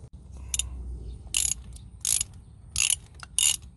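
Ratchet wrench loosening a spark plug on a 2006 Chevy HHR, heard as four or five close, bright bursts of rapid clicking separated by short pauses, over a low hum.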